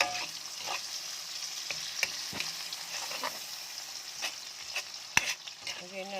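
Alamang shrimp paste for pinakbet, sizzling steadily in a hot pan with a soft constant crackle, punctuated by occasional sharp scrapes and taps of a spatula as it is stirred, close and alone.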